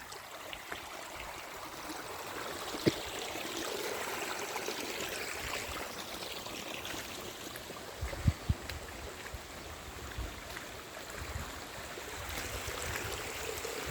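A swollen river flowing steadily near Bhor, Maharashtra, a continuous broadband rush of moving water throughout with a few brief knocks, no talking.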